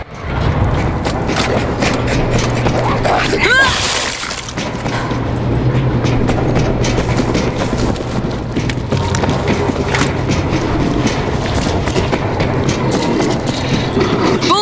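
A rumbling train in a tunnel in the video game World War Z passes steadily with rattling mechanical clatter and a dull boom partway through, loud and continuous.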